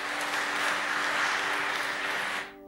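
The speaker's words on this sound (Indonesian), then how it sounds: "Tepuk tangan buat Tuhan Yesus." A church congregation at Sunday Mass claps together in a dense, steady burst of applause lasting a couple of seconds over a sustained background tone, then it drops off abruptly.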